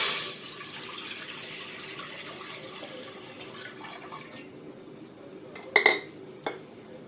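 Water is poured into a pan in a home kitchen to make rasgulla syrup, a soft steady splashing stream that stops midway, followed by a few sharp clinks of a metal utensil against the pan.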